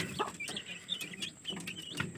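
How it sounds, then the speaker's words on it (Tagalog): A chicken clucks repeatedly up close, short throaty notes with a few higher squawky calls mixed in. "Ayan yung manok namin o."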